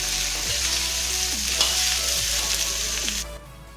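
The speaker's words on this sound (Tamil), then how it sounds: "இப்போ நறுக்கி வச்சிருக்க தக்காளியை இந்த கடாயில் சேர்த்துக்கலாம்." Chopped tomatoes fry with onions in a kadai for paneer butter masala, a loud steady sizzle with a few stirring scrapes, close up, cutting off just before the end.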